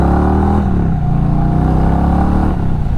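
An Indian Sport Chief RT motorcycle with modified cams and a 2-in-1 exhaust revs loud and close, its deep throbbing engine note rising and falling as the throttle is blipped.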